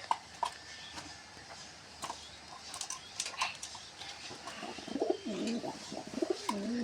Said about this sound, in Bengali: এটা হলো বাঘ আর সিরাজি কবুতর